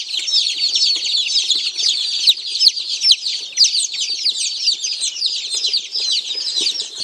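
Dense, continuous high-pitched cheeping from a box of newly delivered chicks, pullets and rooster meat birds, loud and close with overlapping peeps throughout and no talking.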